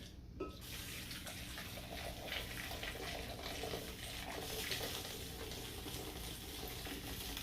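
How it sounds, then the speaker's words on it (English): Hot pickling brine for red onions pours from a pot into a measuring cup, a steady close liquid splash and trickle that runs continuously at low volume. "I'm going to transfer it back over into my measuring cup."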